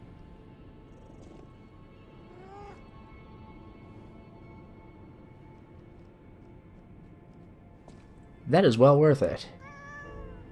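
Spring the cat in the video game Lies of P gives a loud, close burst of several rising meows near the end, after a quieter stretch with a faint earlier mew over soft game ambience; someone speaks briefly.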